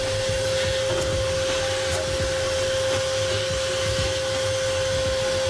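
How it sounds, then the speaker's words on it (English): A shop vac runs continuously at close range while vacuuming out a motorcycle gas tank, giving a loud, steady whine and roar with slight fluctuations in the airflow. "So I stopped that and went back to the shop vac."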